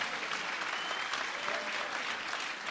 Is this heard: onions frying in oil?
no